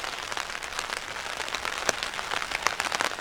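Steady rain falls across an old Presbyterian cemetery on a chilly day, a dense even hiss with scattered sharper drops spattering close by throughout, no voices.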